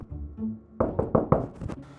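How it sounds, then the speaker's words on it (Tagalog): Knuckles rap on a door: a quick burst of about four sharp knocks, then a few softer taps, close and fairly quiet, following a short stretch of faint indoor background. "Kumakatok."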